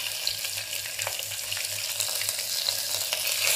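Cumin, mustard seeds, bay leaves, whole chillies and curry leaves fry in ghee, giving a continuous hissing crackle with faint intermittent pops. It runs steadily throughout with no talking.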